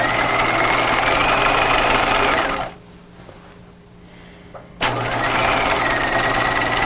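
A home sewing machine runs steady and fairly loud while top stitching a pajama seam, stops for about two seconds of near quiet with faint clicks, then starts up again abruptly.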